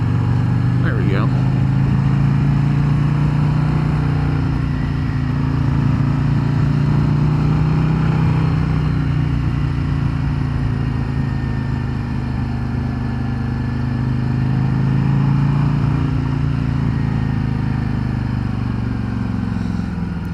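Harley-Davidson Street Glide motorcycle with a stock Milwaukee 8 V-twin engine rumbling steadily while riding, a loud continuous low drone with gentle shifts in pitch as the bike pulls through the gears.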